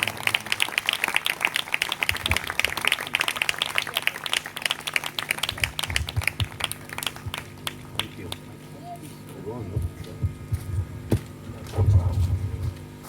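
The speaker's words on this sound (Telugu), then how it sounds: "చప్పట్లు కొడుతూ ప్రేమతో వారిని ఆహ్వానిద్దాం" Church congregation in Ramavarappadu applauding to welcome a preacher, dense clapping that gradually thins out, with a voice speaking over the room as it settles.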